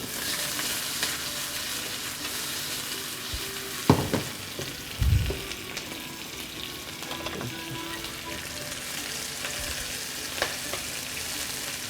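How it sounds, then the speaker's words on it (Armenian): Onion frying in a pan for soup, a steady close sizzle throughout with a few louder knocks and stirring clatters in the middle. "Ավելացնում ենք արդեն սոխը"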